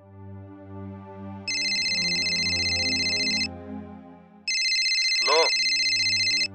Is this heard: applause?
no